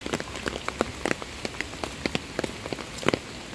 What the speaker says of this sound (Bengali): ঝিপ ঝিপ করে বৃষ্টি হইতেছে।